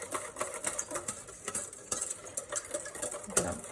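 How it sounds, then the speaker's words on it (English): Pastry cream whisked vigorously by hand in a pot to keep out lumps and dissolve the sugar, a quick, fairly faint scraping and clicking rhythm of irregular strokes with no talking. "I'm gonna whisk this pretty heartily so we keep the lumps out and get that sugar dissolved"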